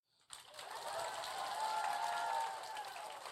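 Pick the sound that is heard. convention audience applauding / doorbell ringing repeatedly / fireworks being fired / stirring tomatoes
convention audience applauding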